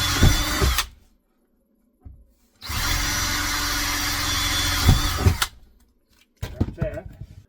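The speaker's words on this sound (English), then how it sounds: "We're going to drill through this sill." Power drill boring through the door sill of an RV, fitting an automatic screen door closer: a short burst, a pause, then a long steady whine of several seconds, close and loud, with brief handling noises afterward.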